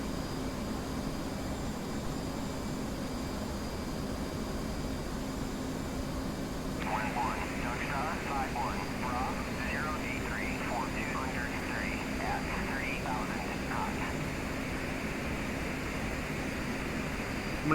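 F/A-18 jet engine in the DCS flight simulator spooling down as the throttle is pulled back, a steady broadband roar continuing throughout with a warbling tonal whine entering midway, under cockpit background noise.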